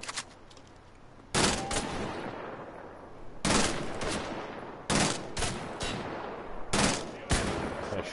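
Three-shot burst gunfire from a weapon in Wolfenstein: The Old Blood, four sharp loud bursts spaced a second or two apart over a steady background rumble, with no talking.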